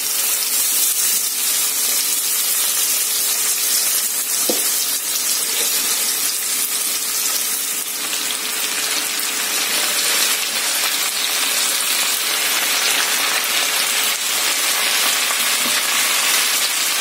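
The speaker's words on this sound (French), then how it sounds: "Là maintenant je vais donc ajouter les épinards" Spinach dropped into a hot pan for a salmon dish gives off a loud, continuous hiss of sizzling that holds evenly throughout, close up and with no voices.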